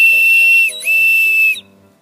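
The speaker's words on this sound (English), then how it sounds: "Next thing I got is my my survival whistle. This is how it blows." Survival whistle blown twice up close, a loud piercing shrill tone with a brief dip between blasts before it cuts off sharply.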